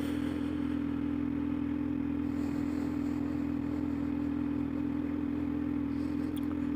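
Motorcycle engine droning steadily throughout a ride, a constant low hum with faint wind and clatter on top, no voices.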